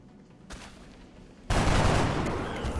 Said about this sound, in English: let's actually take a shot at the merging sectoid